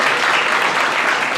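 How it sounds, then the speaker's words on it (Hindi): A roomful of students at an offline coaching class claps for a classmate selected for Delhi Police, a short, loud, even burst of applause. "इसके लिए एक बार ताली मेरी तरफ से"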